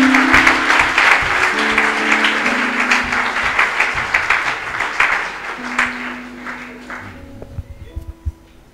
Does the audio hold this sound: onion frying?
no